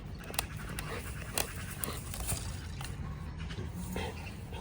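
A dog pants steadily while chewing a stick, with close breathy huffs and a few sharp crunching clicks from the chewing over a low rumbling background outdoors.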